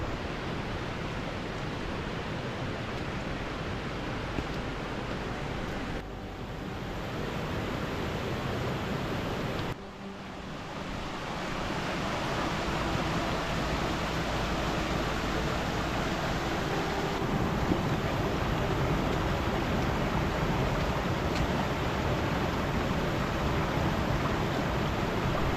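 A mountain stream and waterfall near Dove Crag rush continuously in broadband white noise, loud and close, with a couple of brief dips where the sound is momentarily muffled.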